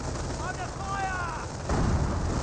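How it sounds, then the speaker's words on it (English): Decoy artillery barrage in the Company of Heroes video game, heavy booming fire that swells louder near the end, rumbling steadily beneath a voice talking. "Oh, was that a decoy barrage? It was a decoy barrage."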